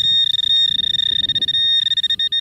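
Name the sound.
metal detector ringing on a target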